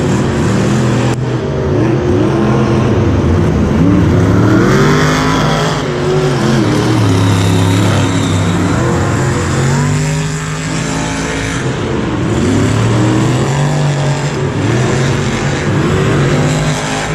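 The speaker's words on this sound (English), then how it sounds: "we have Brad Allen and Brutus and Lee O'Donnell in the VP Racing Fuels Mad Scientist." Monster Jam trucks Brutus and Mad Scientist racing side by side in a muddy stadium, a loud, continuous roar of big engines rising and falling through revs for the whole stretch, with no talk over it.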